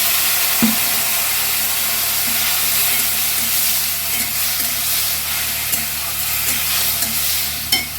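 Potatoes and bitter gourd frying in a pan with a splash of water give a steady, loud sizzle and hiss throughout, with faint, regular spoon taps from stirring underneath.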